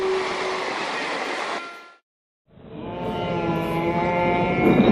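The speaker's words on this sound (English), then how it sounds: "scary monorail" Scary-sounding monorail train running loud and close, a steady rumbling roar with a whine, cutting to silence briefly before a second pass with rising mechanical hum and squeal.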